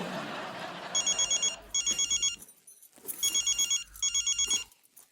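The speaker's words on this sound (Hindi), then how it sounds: "हाँ ले फोन करो फोन" A telephone rings with repeated electronic trilling bursts, four rings in two pairs, against quiet background noise.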